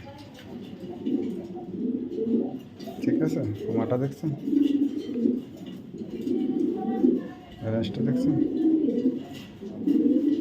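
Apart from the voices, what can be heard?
pigeons cooing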